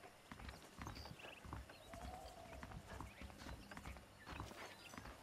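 Horse hooves clip-clopping in the video game Red Dead Redemption, a steady rhythmic trot of hoofbeats at moderate distance, fairly quiet, with a brief whinny-like tone and game ambience.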